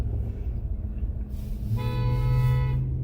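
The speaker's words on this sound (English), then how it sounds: "He was honking at them." A car horn sounds one sustained honk partway through, loud and steady over low traffic rumble from the street.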